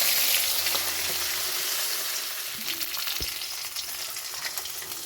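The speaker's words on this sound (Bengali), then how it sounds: "মাছ ভাজা হয়ে গিয়েছে," Phasa fish frying in oil in a pan makes a dense, steady sizzle and crackle, close and continuous, with a faint knock partway through.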